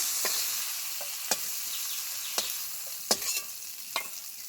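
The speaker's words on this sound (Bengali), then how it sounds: "চিংড়ি মাছগুলো খুব ভালোভাবে ভেজে নিলাম।" Steady hiss of prawns frying in hot mustard oil, with a few sharp spatters and pops breaking through every second or so.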